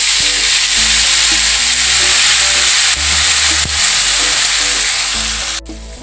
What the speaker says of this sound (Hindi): इसके बाद हमारे पास है प्याज और अदरक लहसुन का पेस्ट, इसको डाल देंगे।